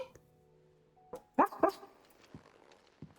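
A dog in the video game Final Fantasy XVI gives a few quiet, separate barks and yips, with soft whimpering sounds between them, in an otherwise hushed scene.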